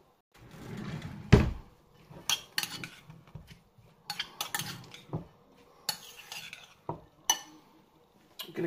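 Chilli beef taco filling being mixed and seasoned, with lime zest and juice added: scattered clinks of cutlery against a bowl or pan, scraping stirs and a sharp knock near the start, close and fairly quiet.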